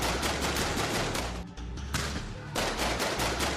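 Rapid cartoon gunfire rattles in dense bursts, close and loud, with a short lull in the middle before the shots resume.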